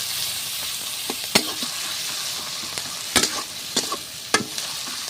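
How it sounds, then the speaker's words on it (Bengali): Onions sizzle steadily in a frying pan, a soft crackling hiss broken by a few sharp scrapes and taps of a spatula stirring them, close and without talk. "এখন পেঁয়াজগুলো একটু আমি ভালো করে ভেজে নেব।"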